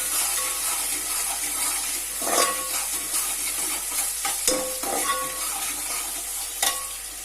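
Chicken curry with ginger garlic paste sizzles in a pan while a spoon stirs it, with a constant frying hiss broken by scraping strokes and a few sharp clinks against the pot.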